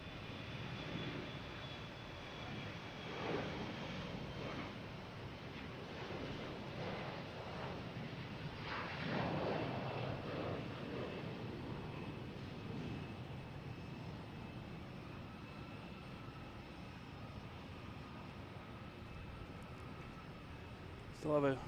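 Air Canada jet airliner departing Boston Logan, a distant, steady engine roar that swells midway and fades, under an ongoing voice talking over it.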